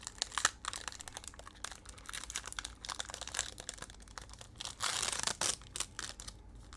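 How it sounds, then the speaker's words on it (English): Baseball card packs are torn open in loud, close, crackling bursts of plastic wrapper crinkling, rising to a dense burst near the end. "Now we're going to open some regular cards here"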